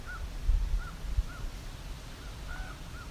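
A raven calling outdoors in a birding setting, a handful of short hoarse croaks spaced about a second apart, fairly distant over low wind rumble, with a few louder handling bumps near the start.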